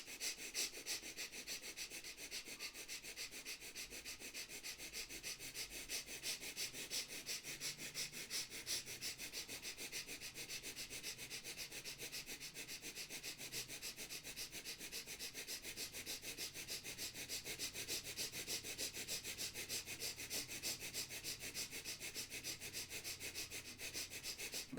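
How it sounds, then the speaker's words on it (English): Quick, short breaths drawn in and out through both nostrils in a breathing exercise, a fast steady train of soft sniffing pulses that continues evenly, close and fairly quiet, with no voice. "start breathing through both the nostrils, quick and fast, quick short breath"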